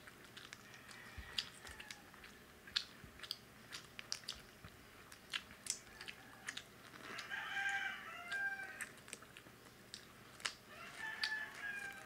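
A rooster crows at a Filipino home meal of buttered garlic shrimp and fried shrimp, its calls rising over close, intermittent chewing and eating sounds.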